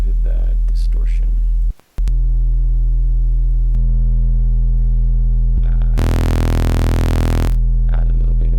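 A distorted low sub-bass tone from the Serum software synth drones steadily with buzzing harmonics above it, briefly cutting out once, then swelling into a harsher, brighter burst before settling back.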